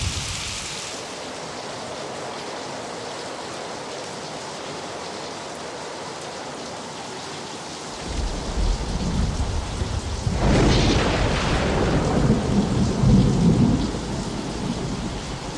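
Heavy rain pours steadily throughout, growing louder and denser after the midpoint, with a deep rumble of thunder rolling in near the end; no voices are heard.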